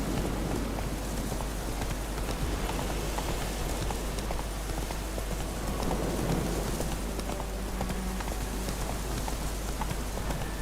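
Geralt's horse Roach galloping in The Witcher 3, a steady rapid run of hoofbeats under continuous rain-like noise and a low constant hum, loud and sustained throughout with no speech.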